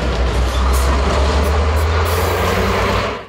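Heavy trucks rolling slowly over a rough, potholed railway level crossing: a loud, close, continuous low engine rumble with rattling and a couple of brief hissing bursts, like air brakes.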